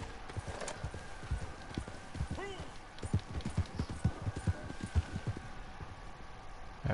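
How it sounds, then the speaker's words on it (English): A horse in a video game trots past, its hooves making a quick, rhythmic clip-clop that grows louder and closer, with a short whinny-like call in the middle. "There's a man on a horse."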